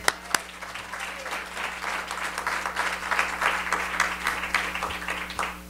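A warm round of audience applause welcoming two journalists at an Italian cultural institute talk, opening with a couple of sharp louder claps, then settling into steady sustained clapping.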